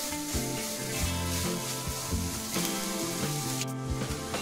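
Grated fresh coconut and jaggery filling for fried modak being stirred in a pan over low heat, a soft crackling sizzle with rhythmic scraping strokes of the spoon, close up and without speech.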